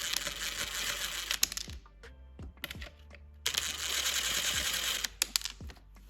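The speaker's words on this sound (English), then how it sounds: "we're just going to go ahead and remove the 2 Phillips screws here" Two Phillips screws are removed from the MAP sensor on a BMW B58 M340i intake, two bursts of close, steady gritty driving noise with clicks and small taps between them, no talking.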